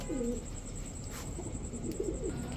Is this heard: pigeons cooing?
yes